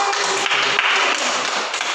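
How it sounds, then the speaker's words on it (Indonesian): Students in a classroom applaud a classmate with a dense, bright patter of many hands clapping together, loud and close, holding steady for about two seconds. "Tepuk tangan dong buat Rianani."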